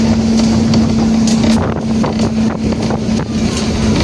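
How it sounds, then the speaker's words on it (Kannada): Steady wind blowing outdoors at a hilly spot among coconut palms near Tiruvannamalai, a loud continuous rush against the microphone with a faint steady hum underneath, no talking. "ಒಳ್ಳೆ ಗಾಳಿ ಬರ್ತಾ ಇದೆ."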